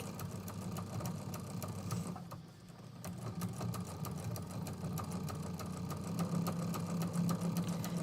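A sewing machine quilting stitch-in-the-ditch runs with a steady rapid mechanical chatter, close and continuous, briefly slowing near the two-second mark before resuming, with no talking.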